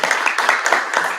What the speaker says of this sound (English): With a round of applause, can we welcome them for their talk?